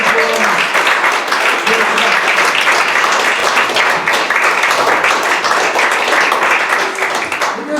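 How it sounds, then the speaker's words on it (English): Loud, sustained applause from a large audience at a magic show, dense clapping filling the whole stretch without a break. "You're very generous with your applause."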